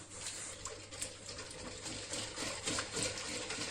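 Water pours steadily from a tea glass onto sugar for syrup, a close, continuous splashing gush that holds level from start to finish.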